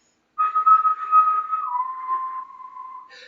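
A person whistles close to a measurement microphone, a steady tone holding for over a second then gliding lower into a long sustained note, loud and clear with no other sound.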